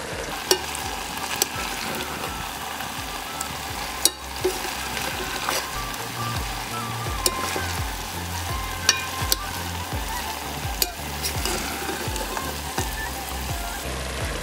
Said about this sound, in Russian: В казан отправляем морковь. И распределяем морковь по казану.